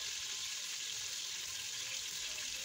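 Onion frying in a pot with chicken, a dense, even sizzle that holds close and constant throughout with no breaks or talking.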